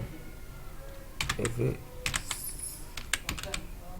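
Typing on a computer keyboard while entering a social media link into YouTube channel settings, with irregular bursts of close, crisp key clicks.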